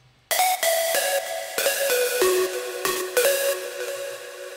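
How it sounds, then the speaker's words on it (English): Synthesizer part of a hip-hop beat, a bright plucky melodic line of sharp repeated notes with ringing decay, loud and alone with no voices. "So initially it's just this synthesizer."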